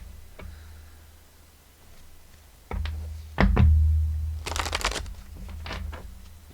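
Goddess Guidance oracle cards being shuffled by hand, a few soft knocks and taps followed by a brisk riffling burst and scattered card slaps, close and fairly quiet with no talking.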